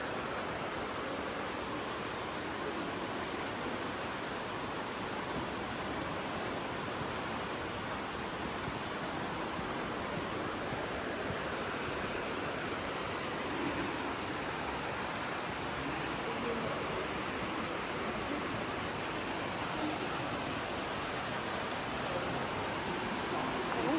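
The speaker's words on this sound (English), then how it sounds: "Nước chảy ở dưới lòng đất đi bà con." Steady rushing water of an underground river inside Blanchard Springs Caverns in Arkansas, a continuous broadband roar that stays even throughout, with no speech heard.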